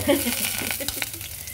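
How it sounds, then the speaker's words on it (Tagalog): Garlic dropped into hot oil for menudo, sizzling and crackling steadily in the pan for a brief moment, with a voice faintly present. "Pagkatapos ng mantika, bawang. Ihulog na ng bawang."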